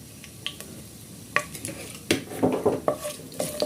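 Bay leaves, cardamom and cinnamon fry in hot soybean oil while a utensil stirs them, giving a soft sizzle broken by several sharp scrapes and clicks against the pan, growing busier toward the end.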